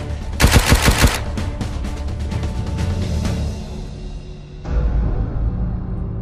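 Gunfire in a battle scene: a loud burst of rapid automatic shots at the start, followed by a scattered run of sharper single shots, then a sudden heavy low rumble near the end.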